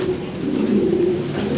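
Lahori pigeons coo in a soft, low, rolling burst, close and clear against a quiet background.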